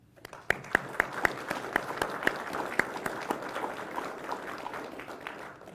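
An audience at a police academy graduation ceremony applauds, with scattered sharp individual claps standing out over a dense, steady wash of clapping that carries on for several seconds.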